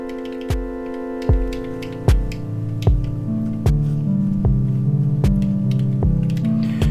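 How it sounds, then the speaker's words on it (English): Ambient electronic music from a terminal-based generator app, with sustained tonal pads and soft percussive ticks striking roughly every second, steady and moderately loud with no talking. "I'm like messing around with this terminal ambient music generator app that I'm working on."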